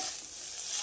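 Potatoes and drumstick flowers fry in a pan with a steady, soft hissing sizzle throughout, fairly quiet and without voices.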